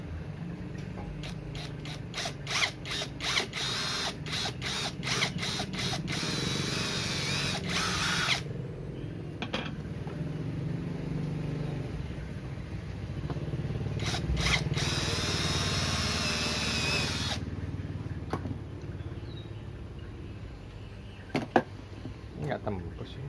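Power drill boring a hole at the marked centre point of a homemade automatic egg incubator, a steady whirring drone broken by short bursts and clicks, with a voice speaking over it.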